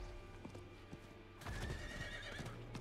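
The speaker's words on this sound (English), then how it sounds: "we can pop on our horse here" Horse neighing and clip-clopping hooves in a dark fantasy action video game: a whinny rises over the quiet ambience, then the hooves beat in a steady rhythm at close range with no voices.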